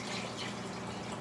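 Water is poured into a pot of cooking brown rice for short ribs, a steady close splashing and trickling stream of liquid at moderate volume, with no voices.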